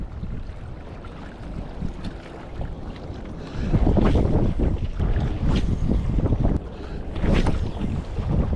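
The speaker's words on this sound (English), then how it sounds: "It is extremely windy out here" Strong, cold wind buffets the microphone on a saltwater shore near Tampa, Florida, a loud continuous roar with gusty surges that build partway through.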